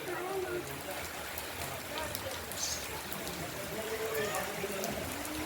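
Unseasonal rain falls steadily outside a house, a dense continuous patter close by, while people talk over it.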